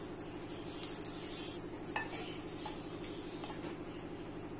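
Two pieces of cinnamon, six cloves, four cardamom pods and two bay leaves sizzle gently in hot oil for a vegetable biryani, a soft, steady frying hiss with a few light utensil clinks over it.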